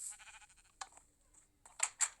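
A few short Minecraft sheep bleats, thin and electronic-sounding, coming in separate bursts with quiet gaps between them.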